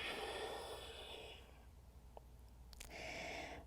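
Breath during a yoga session, a long, soft, airy exhale close to the microphone, a quiet pause, then another breath begins, faint overall.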